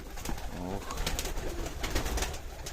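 Young Baku pigeons coo in a loft, soft throaty rolling calls mixed with fluttering and shuffling noises, all fairly close and continuous.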